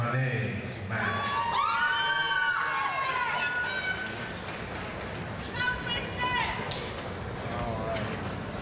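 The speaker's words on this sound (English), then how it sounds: "Got a cheering section." Cheering section at the 2007 Cleveland State graduation ceremony: a crowd whoops and shouts in bursts over steady hall murmur, with a speaker's voice reading names alongside.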